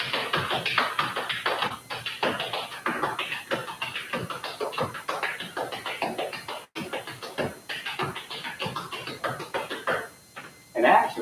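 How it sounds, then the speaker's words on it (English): Appalachian flatfooting dance steps adding brush and scuff moves, a steady stream of quick shuffling taps and scrapes on a floor, close and continuous. "Or you can add both the brush and the scuff, and it would look and sound like this."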